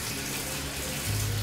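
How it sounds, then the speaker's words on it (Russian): Water runs from a mixer tap into a bathtub filling through an overflow drain, a steady close rushing hiss that swells louder toward the end, with no voices. "и вода побежала"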